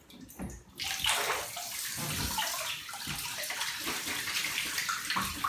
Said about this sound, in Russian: Николь, включи воду